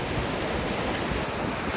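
Ocean surf breaking on the shore at Corpus Christi, a loud continuous wash of broadband noise with wind rumble, steady throughout the short stretch.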